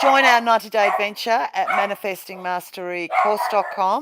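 Dogs bark in short, repeated yips and woofs indoors, mixed in with a person speaking over them. The barking runs throughout the few seconds at close range.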